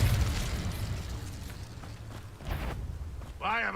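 Confringo explosion spell cast in Hogwarts Legacy: a burst and rumbling boom at the start fading into a low roll, with a voice talking over it near the end.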